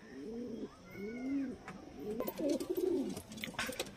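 A pigeon coos up close in a loft, with several low rolling coo phrases in a row and a few faint chirps from other birds behind them.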